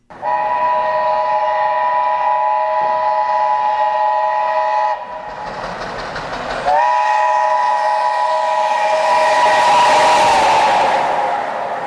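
A steam train whistle blows in long sustained tones, briefly breaking off before sounding again, loud and close over the rumble of the moving train.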